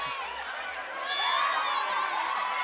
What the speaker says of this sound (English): he's interacting with the crowd, taunting the kids that are here to support Ladislav